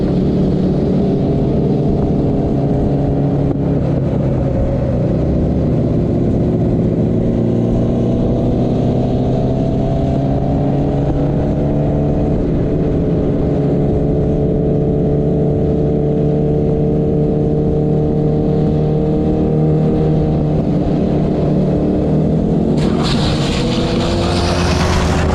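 A Ducati Streetfighter motorcycle engine drones loudly and steadily on a wet racetrack, its pitch rising and falling through gear changes, before a sudden burst of broadband noise near the end as the bike crashes.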